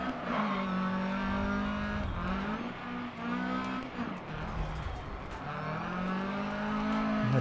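A rally car in DiRT Rally on Xbox One, a 208 T16 at a Swedish rallycross event, roars loudly and continuously as the engine revs rise and fall through gear changes, with some tire noise and no voices.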